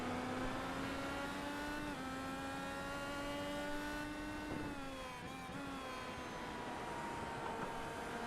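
Race car engines in an IndyCar racing video game drone steadily and loudly throughout, with sustained high whining pitches that rise and shift slightly as cars accelerate through turns on the Asheville course.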